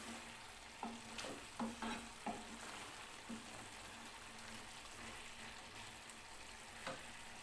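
Chopped green chilies frying with soft-cooked potatoes in a pan: a faint, even sizzle under a handful of quiet stirring taps and scrapes, with no talking.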